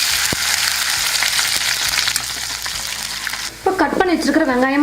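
Garlic, cumin and fenugreek with mustard seeds frying in sesame oil for a ladies finger tamarind gravy, a steady close sizzle that drops off near the end as a voice speaks over it.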